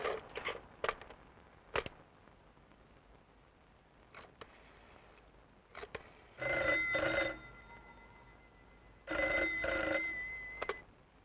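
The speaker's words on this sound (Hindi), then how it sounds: "मैं खुद डायल करना चाहती हूँ।" An old telephone rings after a number is dialed, in two rings of about a second each separated by a pause, with faint handling noises and clicks before the first ring.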